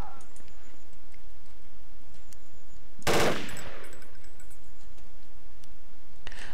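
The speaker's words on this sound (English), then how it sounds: "Single fire is pretty accurate, which is what we'll be using to headshot this son of a bitch." A single loud rifle shot in single-fire mode from Project Reality cracks once midway, its echo tailing off over about a second against a quiet background ambience.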